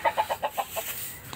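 A hen clucks about six times in a quick, evenly spaced run that fades slightly toward the end, close by and moderately loud.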